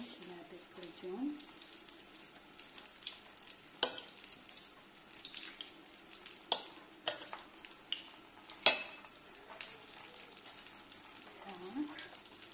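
Dough envelopes frying in a pan for a diet dish, a steady close sizzle with a few sharp crackling pops and light stirring, with no talking.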